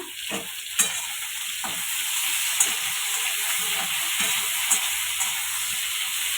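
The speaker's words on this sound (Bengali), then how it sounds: "পরিমাণ মতো লবণ দিয়ে এগুলো ভেজে নেব" Tomatoes, pointed gourd, capsicum, potatoes and green chillies fry with cumin seeds in hot oil in a pan, a steady close sizzle with occasional stirring clinks and scrapes, no talking.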